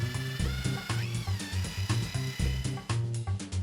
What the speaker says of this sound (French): Malaxez énergiquement avec un mélangeur électrique très propre.